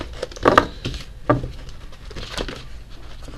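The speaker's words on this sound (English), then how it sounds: "I'm not having a good time shuffling these today." Tarot oracle cards being shuffled give a few quick papery riffles and soft flicking bursts, close and fairly quiet, separated by short pauses.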